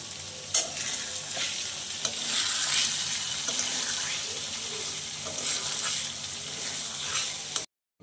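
Small kachki fish cooked with eggplant sizzle in oil in a pan, a continuous close crackle broken by occasional stirring scrapes, then cutting off abruptly at the end.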